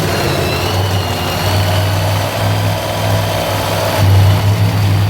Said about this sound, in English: Here we go. The cars are started.